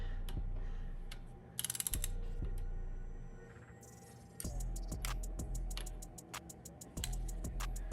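A clicking torque wrench tightens bolts to 10 Nm on a 2011 Audi R8 V10 during an oil change, with rapid ratcheting ticks and a few sharp clicks, close and distinct against a quiet background.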